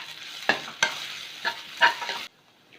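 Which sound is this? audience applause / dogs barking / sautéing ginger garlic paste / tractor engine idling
sautéing ginger garlic paste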